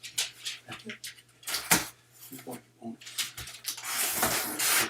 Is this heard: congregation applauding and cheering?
no